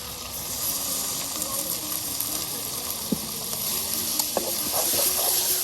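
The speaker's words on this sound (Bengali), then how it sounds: "মাংসটা একদম মশলার সাথে আপনার কষানো হবে।" Meat sizzling and hissing in spices in a village cooking pot, a steady close frying hiss with occasional scraping clicks from stirring and faint voices in the background.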